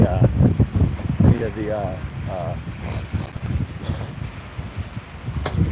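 Wind blowing outdoors on a morning walk, a steady rushing buffet over the microphone that runs beneath a voice talking close by.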